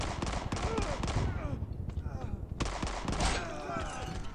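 Gunfire in a mobile World War 2 shooter game, with quick bursts of shots and clattering impacts, some near and some farther off, under a player's talking.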